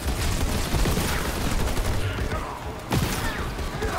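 Gunfire from enemy ground troops in Halo Wars 2, a dense, continuous crackle of sci-fi weapons fire with scattered sharp bursts and one loud crack near the end, steady and fairly loud throughout with no talking.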